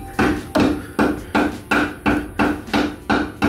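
Hammer blows tightening the knock-off spinners on wire wheels mounted to a Cadillac, eight sharp, evenly spaced metallic strikes roughly every half second, loud and close with short ringing decay.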